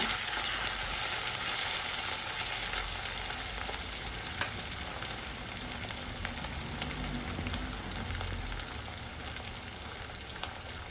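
Washed potatoes frying in a pan before cabbage is added: a steady, dense sizzling hiss that runs unbroken throughout, close and even, with faint occasional crackles.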